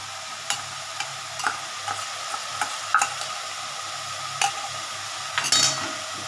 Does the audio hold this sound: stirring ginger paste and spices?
yes